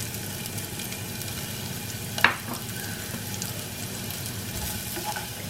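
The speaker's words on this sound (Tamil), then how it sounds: "இந்த இதில் வந்து கொஞ்சமாக வெங்காயம்." Onion frying with cumin seeds in a pan, a steady hissing sizzle throughout with one brief clink of a utensil midway, close and even.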